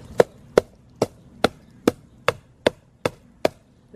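A big spoon strikes a homemade Mylar drum nine times in an even, steady rhythm, each hit a short, sharp, close-up thump with quick decay.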